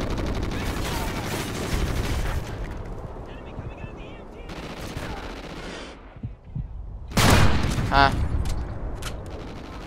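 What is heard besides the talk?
sniper rifle gunfire in the Call of Duty Ghosts video game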